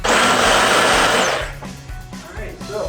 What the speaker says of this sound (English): So what I do is I usually just get a Sawzall, and cut them out.